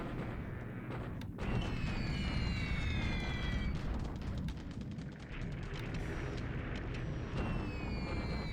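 Bombing explosions in the War in the Pacific video game during the invasion of Fiji, a dense rumbling barrage of booms layered with whistling descending tones, continuous and heavy across the clip.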